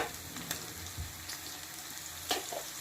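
Whole fenugreek seeds sizzle in hot oil for a kadhi tadka, a steady close crackle with a few sharper pops and a brief stir, no one speaking.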